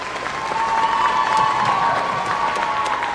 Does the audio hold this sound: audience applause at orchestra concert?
yes